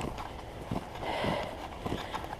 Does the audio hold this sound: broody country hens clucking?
no